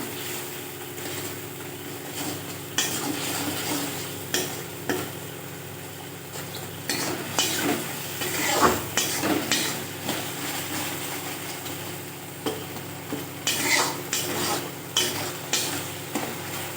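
Spice masala with turmeric and salt being stir-fried in a pan, with a soft continuous sizzle broken by repeated scraping strokes and light clinks of a spoon against metal, close and fairly quiet.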